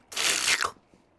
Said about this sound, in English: Is that one licking a lollipop? Yeah, that sounds like a crunch.